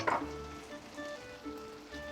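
Rice hits hot oil in a pot and sizzles sharply, a loud burst at first that settles into a steady crackling fry with no talking.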